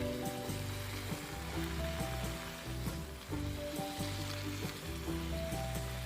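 Pumpkin shoots frying in a pan, a steady close sizzle running unbroken and fairly loud throughout, with no voices over it.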